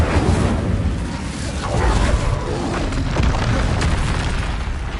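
Incendio fire spell cast in a Harry Potter video game, a sustained roaring burst of flame with whooshing, crackling noise filling the moment, loud and close.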